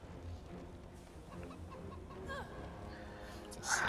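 A chicken in the video game Divinity: Original Sin 2 gives a few soft clucks and a brief squawk, fairly quiet over low game ambience, with faint talk in the background.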